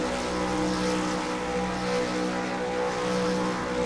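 A V8 Supercar engine in the iRacing video game drones steadily at high revs at Oran Park, a continuous loud mechanical roar with no voices present.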